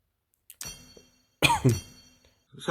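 A few short, harsh coughs in quick bursts, close by, with brief quiet gaps between them.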